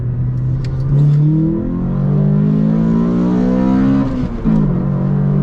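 A Toyota Corolla XRS makes a full-throttle pull, its engine droning loud and close as the pitch rises, dips briefly at a shift, then climbs again.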